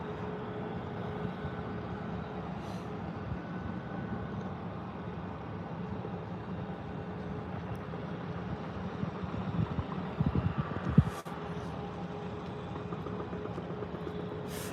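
Jet engines of a Loganair Embraer ERJ at Birmingham airport make a steady low roar with an odd rustling quality, growing a little rougher and louder near the end, with no voices.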